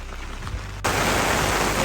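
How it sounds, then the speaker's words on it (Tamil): Heavy rain in a flooding town, a dense hiss that surges abruptly louder partway through and then pours on steadily and close, with no voices. "ரோட்டே வந்து தெரியாத அளவுக்கு தான் மழை பெய்து கொண்டிருக்கு"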